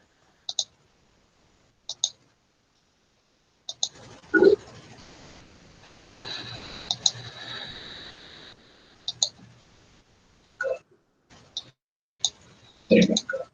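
A computer mouse clicks on an icon during a screencast webinar, giving a handful of sharp, isolated clicks scattered across the stretch, some in quick pairs, over a quiet room with a brief murmur of background noise midway.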